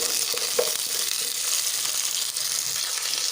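Pumpkin frying in a pan with bottle gourd leaf and stem vegetables, a short steady hissing sizzle close up with a faint clink near the start, no voices.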